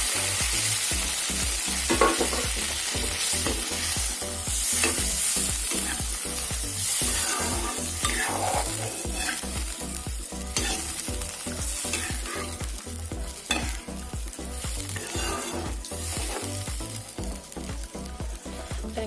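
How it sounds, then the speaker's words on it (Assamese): Hot boiling water poured into a fried fish curry sets off loud, continuous sizzling and bubbling in the pan, with stirring scrapes throughout, close and without speech. "সেই উতলাই উঠা গৰম পানী দি দিছোঁ"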